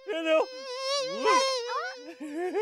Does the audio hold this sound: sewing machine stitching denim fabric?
no